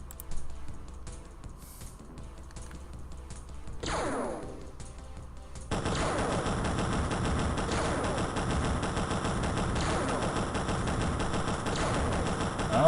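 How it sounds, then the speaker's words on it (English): Avalanche missiles launching in the XCOM video game: a quiet stretch and a brief sweeping whoosh give way to a loud, dense, continuous barrage of rapid blasts that holds steady for several seconds. "Yeah, avalanche missiles."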